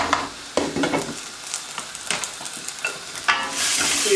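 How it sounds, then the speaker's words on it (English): Onions frying in a pan for sausage fried rice, with a close, steady sizzle and repeated spatula scrapes and knocks against the pan over a few seconds, no speech. "Please fry your onions."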